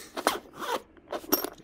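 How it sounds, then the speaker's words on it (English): The zipper on a violin case is pulled in three short, scratchy runs close up, each quick rasp separated by brief pauses, with no talk. "And the zipper can't go beyond the little stop."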